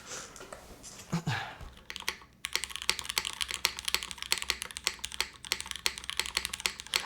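Close, rapid typing on a Synth60 prototype mechanical keyboard with a flip spacebar, mid-plate foam and no bottom weight, giving dense, even keystroke clacks in a steady stream, nearly alone after a brief softer rustle at the start.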